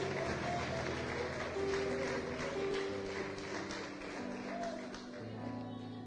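Church congregation clapping in a sanctuary, a sustained wash of many hands applauding together with sustained tones beneath, fading slightly toward the end.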